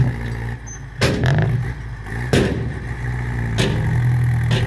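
A farm tractor's diesel engine runs near the microphone with a steady low rumble, broken by a few sharp metallic knocks and revving surges while it works through sandy soil.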